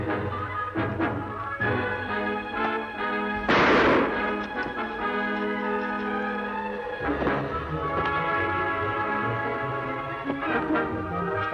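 Gunshots ring out in a Western shootout, several sharp reports spaced apart with one loud burst in the middle, set against a dramatic orchestral score.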